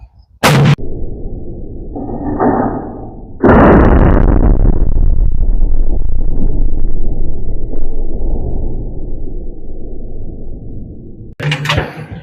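Cold bore shot from a hunting rifle during load development, a single very loud close blast followed by a long rumbling decay, with sharp clicks and handling noises before and after.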